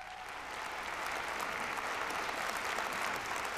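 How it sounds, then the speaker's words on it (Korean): Steady, dense applause from a large crowd, sustained at an even level throughout with no voices standing out. "큰 박수 부탁드립니다."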